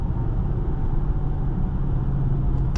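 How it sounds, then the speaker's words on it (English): A 2019 Maserati Levante Trofeo with a 590 hp Ferrari-derived V8 cruising from inside the cabin: a steady, low engine drone with road rumble, even and unbroken throughout. "But you know that a Ferrari derived V8 is gonna sound insane."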